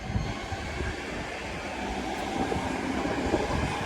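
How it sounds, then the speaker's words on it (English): West Midlands Railway class 323 electric multiple unit departing a station, a steady rumble of wheels and traction building slightly, with rail clatter close by and no voices. "323202 working the West Midlands Railway service going to Four Oaks from Redditch"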